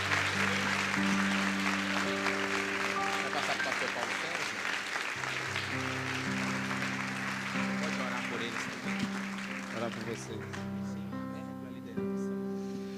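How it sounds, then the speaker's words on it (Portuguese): A congregation claps in church at a Baptist anniversary service, sustained applause blended with music-like sustained tones and voices throughout. "Você pode aplaudir"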